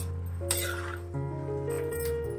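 A spoon strikes and mashes cooked raw jackfruit sabji in a metal pan, giving a few close, ringing metallic clinks that hum on between hits.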